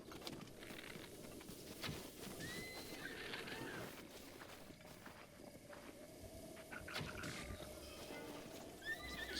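A horse whinnies and its hooves clop in The Legend of Zelda: Breath of the Wild, set against a busy outdoor ambience with faint chirps, at moderate volume and with no talk.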